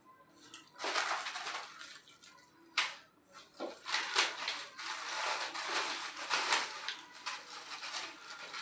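Fried papad crunches in several sharp, crackling bites at close range, eaten together with rice, with quiet pauses between the bursts and no talking.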